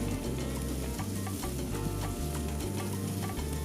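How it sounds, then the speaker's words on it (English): Meat sizzling on a grill just after being flipped, a loud continuous crackle with a low rhythmic hum running underneath. "now we just flip the meat"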